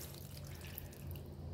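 Water runs faintly and steadily into a pot to cook vegetables for bisi bele bath, a soft continuous splashing stream.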